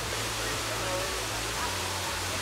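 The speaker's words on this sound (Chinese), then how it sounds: "就可以直接见到瀑布" Tegenungan waterfall in Bali pours as a steady, dense roar of falling water, a constant broadband wash with a low rumble underneath, heard up close without a break.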